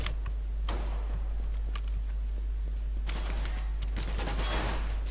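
Rapid bursts of gunfire crackle on the Dust2 map of a shooter game, with a dense volley near the end over a steady low hum.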